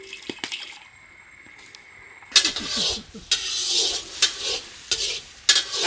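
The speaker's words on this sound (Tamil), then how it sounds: "அடுத்து முட்டையை உடைச்சு பொடி மாஸ் பண்ணிக்கலாம்." Egg being scrambled and fried in a pan for chicken fried rice: a quiet start with a few clinks, then sharp sizzling bursts and the scrape of stirring that rise and fall in close, loud waves.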